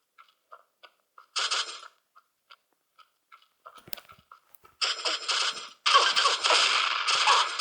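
Gunfire in the video game Pixel Gun 3D: sparse faint clicks, then a short crackling burst, followed by two longer loud rapid-fire volleys of clattering automatic shots, with no talking.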